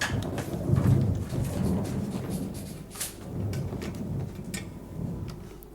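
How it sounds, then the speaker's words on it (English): A thunderstorm rumbles directly overhead, deep rolling thunder running through the whole stretch over a steady hiss of rain, with sharper cracks and a few louder peaks breaking in. "The storm is directly above us."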